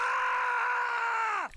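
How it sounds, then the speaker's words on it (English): A werehog scream sound effect: a sustained, loud, harmonic screeching howl held steady for over a second before its pitch drops away abruptly into a short cutoff. "I just play the werehog scream."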